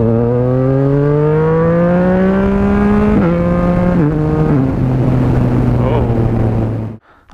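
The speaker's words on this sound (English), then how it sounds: "so full whack acceleration" A car with a modified exhaust baffle accelerates hard at full throttle, its loud engine note climbing steadily in pitch with a few gear-change dips before settling and cutting off near the end.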